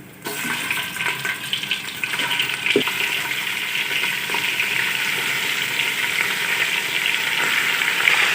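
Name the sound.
mutton frying in a pan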